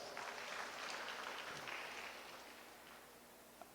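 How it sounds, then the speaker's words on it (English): Graduates applaud at a nursing hooding and pinning ceremony at Naval State University, a steady wash of clapping that stays fairly even before thinning out toward the end. "Let's give yourselves a big round of applause."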